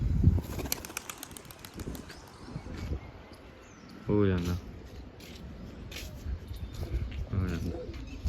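Pigeons flap their wings in quick bursts and coo softly nearby, while someone talks over the fluttering.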